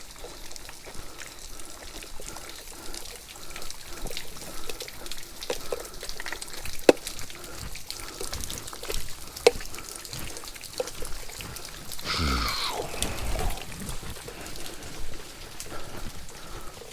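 Water trickling and flowing after rain, a steady wet wash with small splashes and occasional sharp drips or knocks, plus a brief louder gush near the end, with no talking.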